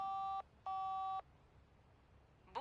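A phone call is dialed in the PS2 game The Da Vinci Code: two clear, evenly spaced electronic tones, each about half a second, then a faint hiss and a sharp click at the end.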